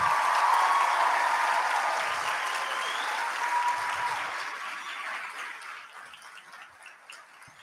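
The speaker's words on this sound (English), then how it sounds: "Please give them a round of applause." A large audience at a high school graduation ceremony claps for the graduates, a dense and even wash of applause that slowly fades.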